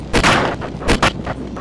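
A grenade exploding in Call of Duty Black Ops, close and loud: two heavy booming blasts with rumbling tails, followed by fainter trailing bangs.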